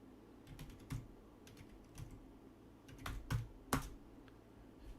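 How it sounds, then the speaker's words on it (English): Someone types on a failing wireless computer keyboard, making irregular, close clicking keystrokes with brief pauses and a few louder taps. No one speaks. "I'm trying to type the word Albuquerque and you crap out on me, stupid wireless keyboard"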